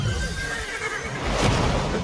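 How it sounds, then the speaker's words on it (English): A horse in the Highguard video game trailer lets out a single loud, close whinny lasting about two seconds, swelling midway over a background of game sound. "That horse came out of nowhere."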